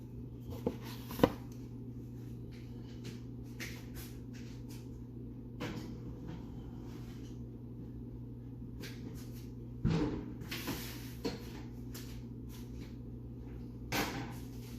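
Oven door opened and shut to load a roast pork shoulder, a couple of faint clunks and thumps over a steady kitchen hum, with occasional light handling knocks.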